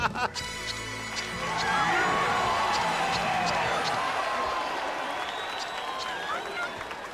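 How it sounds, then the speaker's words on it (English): Cheer emotes from several players in Final Fantasy XIV, at the Hildibrand Stormblood finale: a dense, steady wash of game crowd cheering and clapping, fairly loud and continuous with bright chimes over it. "Oh goodness, the cheer emotes as well."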